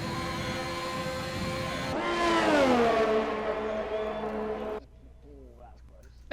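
Race cars in a racing game at the Azerbaijan round roar in at speed, one engine note sweeping sharply downward as it passes close and loud, then fading, with the end of the stretch almost silent.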